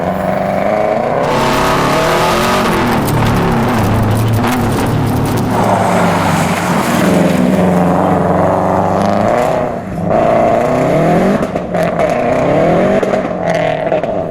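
A Subaru drift car on a sighting lap at Crail Raceway in Scotland revs loudly and continuously, its engine note rising and falling with gear changes, close and dominant throughout.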